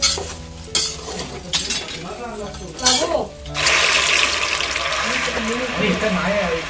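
Spoon stirring and scraping through a large pan of poha with fried peanuts, curry leaves and onion, cooked in bulk for a wedding meal, steady close scraping and clinking under a noisy background with some voices.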